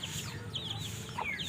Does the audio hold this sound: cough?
no